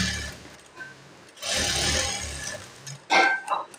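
A sewing machine stitches around a fabric blouse band, giving a few short bursts of whirring motor and needle clatter, with quiet handling noises between the runs.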